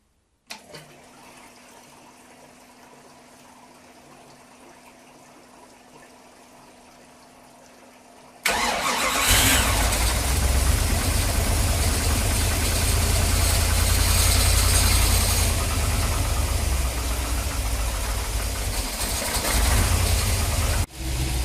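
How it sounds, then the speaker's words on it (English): A 1953 Riley RMF car fitted with a Rover V8 engine and quad carburettors starts abruptly after a quiet stretch and settles into a loud, steady idle with a constant rumble. "the engine's been running for 5 minutes now, and the temperature's coming up"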